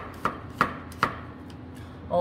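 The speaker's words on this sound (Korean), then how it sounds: "그 다음에 야채를 조금 다져서 넣어 보겠습니다." Vegetables being chopped with a kitchen knife for a tuna dish, three sharp, evenly spaced chops on a cutting board followed by a couple of lighter taps, close and fairly loud with no talking.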